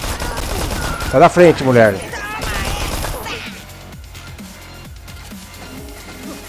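Rapid gunfire from the colonel's gun in Dead Rising 3 crackles in dense bursts, loud and near, with shouted talk over the shots before the firing thins out into sparser background game noise.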